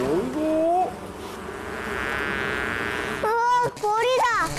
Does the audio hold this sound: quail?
no